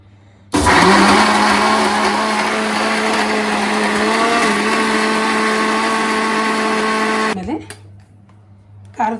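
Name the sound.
mixer grinder grinding coconut masala with water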